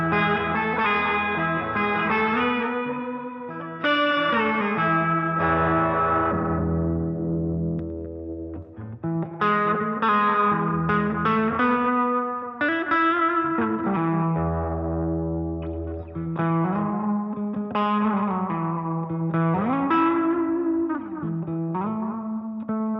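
Electric guitar played through an EarthQuaker Devices effects pedal, giving distorted, chorus-tinged chords and melodic lines with echo and reverb, loud and sustained throughout with no talking.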